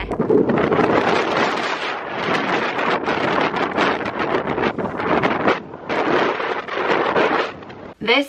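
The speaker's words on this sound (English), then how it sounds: "It's very windy." Strong wind roars and buffets loudly and continuously on Pen y Fan mountain in the Brecon Beacons, gusting in surges with brief lulls, close and harsh against the microphone.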